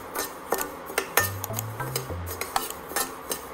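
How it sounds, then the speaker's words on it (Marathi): Rice dry-roasted in a pan with a spoon: faint scattered scrapes and clinks of metal on the pan, irregular and quiet, with a low hum in the background. "तांदूळ सुद्धा गुलाबी होईपर्यंत आपल्याला छान खरपूस भाजून घ्यायचे आहे।"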